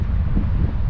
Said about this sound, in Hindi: बहुत तेज़ हवा चल रही है और बहुत ठंडी हवा है।